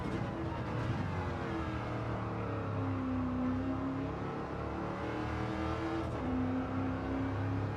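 Race car engine under full throttle in a racing video game, a steady loud engine drone with shifting tonal pitches as it revs and changes gear, no voices.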